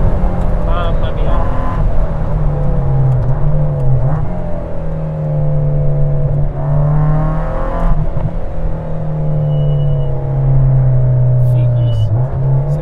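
A Lotus Elise S2 111S sports car engine drones and revs while driving through corners, its pitch rising and dipping with throttle changes, loud and close, with someone talking over it.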